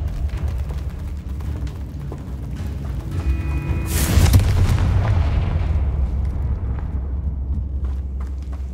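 A Confringo spell explosion in Hogwarts Legacy, a single loud fiery blast bursting out over a steady rumbling game backdrop, then a long fading roar and crackle.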